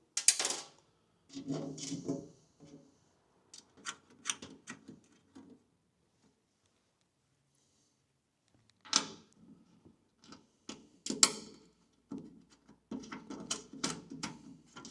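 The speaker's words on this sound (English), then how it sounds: "Going to use a ratchet and a good wide plain slotted headed screw end." A hand ratchet tightens a bolt on a Willys MB jeep body, heard as short bursts of clicking separated by pauses, fairly close and alone with no talk.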